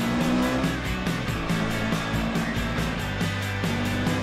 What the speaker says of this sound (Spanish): Speed decide tomar un salto. ¡Y mira! ¡Él está usando el turbo!